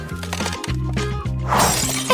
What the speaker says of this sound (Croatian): A sad ću razbiti ovaj voćni led.